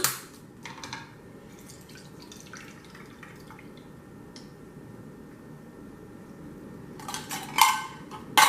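Liquid from mushrooms drains into a cup in a kitchen, heard as faint intermittent drips and trickles over a quiet background, with brief clinks of dishes and a louder splash and clatter near the end.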